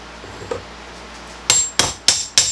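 A paint mixer used as a makeshift punch to pound a star nut out of the stock steerer fork of a budget Walmart Genesis Villotti mountain bike, four sharp, loud metallic hammer strikes in a steady rhythm after a quiet start.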